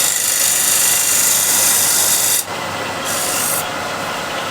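A negative rake scraper rasps steadily against thin wood spinning on a lathe, a loud continuous scraping that eases slightly partway through as the cut lightens.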